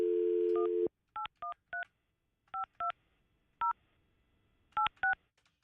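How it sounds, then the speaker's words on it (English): Telephone keypad dialing: a steady dial tone cuts off, then a string of about nine crisp touch-tone beeps follows in irregular groups, close and clean with no talking over them. "I just dialed it back"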